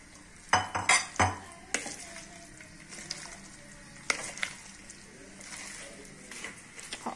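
Crispy pakoras made from a batter mixed with yogurt fry in a pan, a soft sizzle running under sharp clinks of a utensil against the pan and a few louder knocks, fairly quiet overall.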